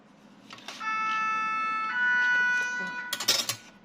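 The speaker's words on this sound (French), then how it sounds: "vous entendez les pompiers, je suis en face de la caserne" A fire engine siren sounds from a fire station just across the street, a loud, sustained two-tone wail that starts after a brief pause and fades into sharp clattering at the end.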